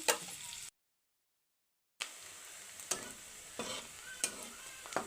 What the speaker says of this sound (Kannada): ಇದು ಸ್ವಲ್ಪ ಗೋಲ್ಡನ್ ಕಲರ್ ಬರೋವರೆಗೂ ಫ್ರೈ ಆಗಬೇಕು